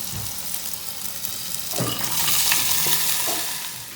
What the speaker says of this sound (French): Et je vais mettre ces légumes-là, des poivrons surgelés, des carottes et des oignons.